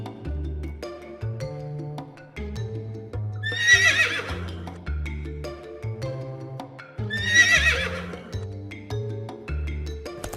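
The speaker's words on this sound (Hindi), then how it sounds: "जमींदार के घोड़े को दिन भर 18 घंटे व्यायाम करवाया जाता था" A landlord's horse gives two shrill, drawn-out neighs a few seconds apart over looping cartoon-style background music.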